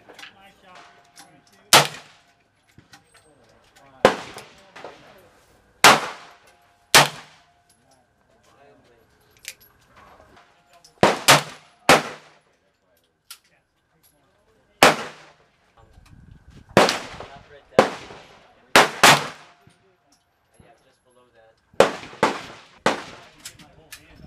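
Shots from a Pietta 1851 .44 black powder revolver at target practice, about a dozen sharp loud cracks spaced a couple of seconds apart, with quiet handling noise in between.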